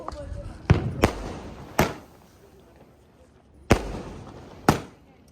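Diwali firecrackers bursting outdoors: five sharp, loud bangs at irregular intervals, two close together near the start, one shortly after, then a long gap before two more, each with a brief echoing tail over low background noise.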